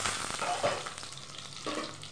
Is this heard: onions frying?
yes